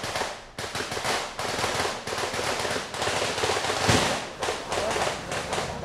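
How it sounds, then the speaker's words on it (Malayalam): Firecrackers set off in a political celebration burst in a rapid, nearly continuous string of loud cracks, with short pauses between runs and a heavier bang near the end. "പടക്കം തുടരെ പൊട്ടു"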